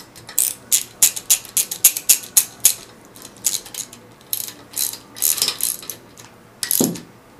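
A 5/8 socket ratchet tightens fasteners on a Budzar Industries SCOTAE211 pump assembly, giving a series of sharp, close metallic clicks in quick irregular bursts with short pauses, without any talking.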